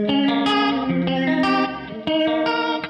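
Electric guitar through a budget chorus pedal, shimmering chords and single notes ringing out with a gentle, subtle wavering modulation, no voices.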